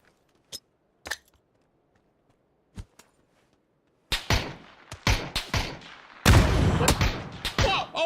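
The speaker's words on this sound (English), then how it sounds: "we're gonna grenade this guy" Grenade blast and gunfire in the battle royale game PUBG: a few isolated sharp shots over near-silence, then a loud cluster of bangs and a heavy explosive boom with rumbling aftermath, ending in more sharp cracks.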